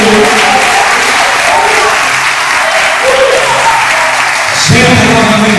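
A church congregation applauds loudly and continuously for several seconds, a dense close wash of clapping with a few voices rising within it.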